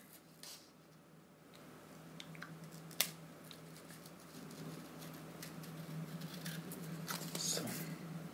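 Scissors snipping through a cardboard template, a few quiet crisp cuts and rustles spread across the scene, with faint handling noise and no clear talking.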